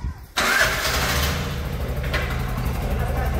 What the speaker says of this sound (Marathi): हा एकदा फिरून घेऊ का रिक्षा